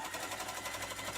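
A sewing machine runs a 2.5 straight stitch along a tote bag seam, a steady rapid needle patter heard close and alone for the whole moment.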